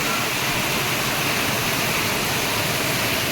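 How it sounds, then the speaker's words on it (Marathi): Heavy rain pouring down in a street in Surat, a dense, constant roaring wash of water that stays loud and unbroken throughout, with no voices. "ह्या पहा धारा कशा पावसाच्या चालू आहे."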